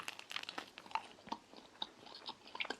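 Crunchy bites and chewing of crisp, slightly overcooked homemade pizza crust baked in a mini oven, a close, quiet run of sharp irregular crackles with no talk.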